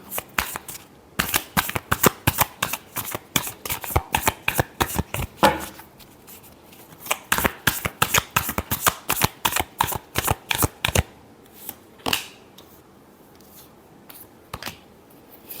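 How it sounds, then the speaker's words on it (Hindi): Tarot cards being shuffled by hand, a close, crisp run of rapid riffling flicks in bursts, a short pause, then more riffles tapering into a few single snaps. "Last shuffle."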